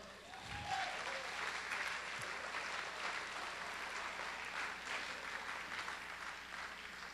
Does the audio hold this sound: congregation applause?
yes